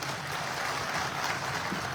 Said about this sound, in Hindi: ताली बजनी चाहिए बीच में